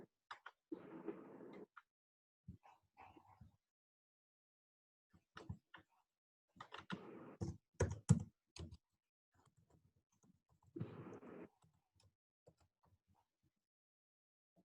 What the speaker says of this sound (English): So I type test data.